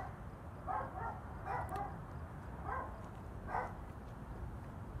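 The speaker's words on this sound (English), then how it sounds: "Dog's gonna attack me." A dog barks four times in separate, evenly spaced bursts, moderately distant and fairly quiet over a steady background hiss.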